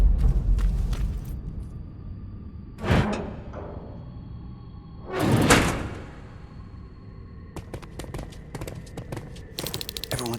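In the Terminator: Resistance game, a heavy door opens with two loud scraping, grinding slides a few seconds apart. Clacking mechanical clicks follow, set against a low ambient hum.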